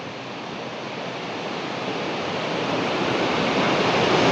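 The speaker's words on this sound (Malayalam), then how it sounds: "അവിടെ വെള്ളം ഒഴുകുന്ന സൗണ്ട് ഇവിടെ നിൽക്കുമ്പോൾ തന്നെ കേൾക്കാൻ പറ്റുന്നുണ്ട്" A continuous roar of water rushing from a dam, broad and steady, slowly swelling louder with no voices.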